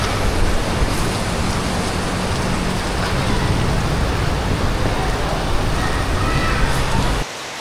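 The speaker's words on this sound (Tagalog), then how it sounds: "Lakas ng ulan." Heavy typhoon rain pours in a dense, steady hiss, loud and unbroken before cutting off abruptly near the end.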